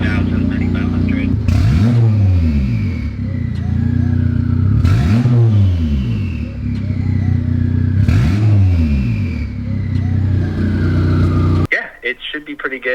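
A turbocharged K20-swapped Honda Civic idles roughly, then its engine is blipped three times in an even rhythm. Each rev sweeps up and falls back, loud and close, before the sound cuts off abruptly near the end.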